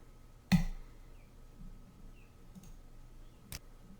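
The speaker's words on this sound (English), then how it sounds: "You can just click the OK Start Batch button." A single sharp computer mouse click rings out clearly, followed by a fainter second click about three seconds later, against a quiet room background.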